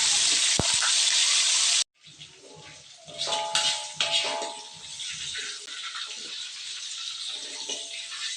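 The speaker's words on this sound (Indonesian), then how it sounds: "Selanjutnya aku mau menggoreng untuk cabai-cabeannya ya teman-teman." Chili peppers frying in oil in a pan for sambal terasi: a steady broadband sizzle and hiss that starts after a short burst of noise, continuing without talk.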